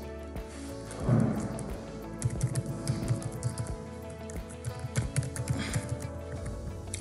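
Soft, irregular keystrokes as an email address is typed on a computer keyboard, continuing quietly over a steady background hum.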